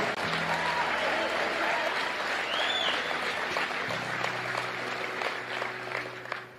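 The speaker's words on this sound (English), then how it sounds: "Give yourselves a round of applause for having an uncommon desire to reach your goals" An audience at a motivational talk claps in sustained, dense applause that fills the space and gradually tapers off, with music tones sounding underneath.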